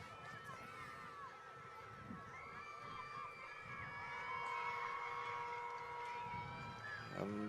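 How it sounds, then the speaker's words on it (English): A distant full-time siren at an outdoor rugby league match, a long wavering tone over crowd noise with shouting and a commentator talking. "And that sounds like the full-time siren."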